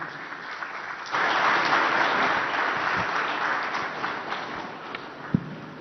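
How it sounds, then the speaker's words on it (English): Audience applause fills the hall at the opening ceremony of an irrigation congress plenary in a hotel, a dense sustained clapping that swells after a second and holds steady, with one sharp louder clap near the end. "this deserves a louder round of applause from everyone here,"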